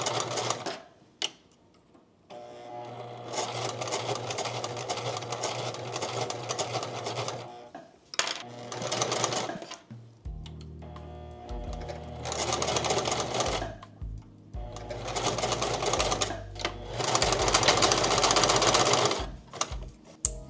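A sewing machine stitches a dress bodice in several bursts of steady, rapid mechanical clatter separated by short pauses, fairly close and loud, with no talking.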